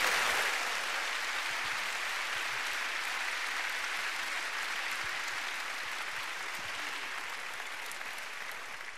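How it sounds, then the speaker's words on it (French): An audience gives sustained, warm applause to Benoît Duteurtre and Michel Houellebecq, a thick continuous wash of many hands clapping that slowly tapers over several seconds. "Merci d'applaudir encore plus chaleureusement Benoît Dutertre et Michel Houellebecq"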